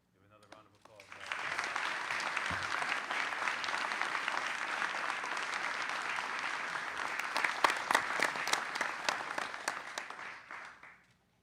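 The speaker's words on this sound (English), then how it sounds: "Give another round of applause." A crowd of event attendees breaks into sustained applause that rises quickly, holds steady for several seconds with scattered louder claps, then tapers off.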